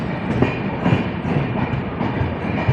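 The Amravati SF Express at Amravati railway station, giving a loud steady rumble of rolling stock with faint rhythmic wheel clatter, close and continuous.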